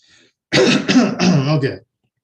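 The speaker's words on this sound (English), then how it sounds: "I don't know why I want to keep coughing here" A single close, loud bout of coughing and throat clearing, a few rough harsh bursts run together over a second or so, then silence.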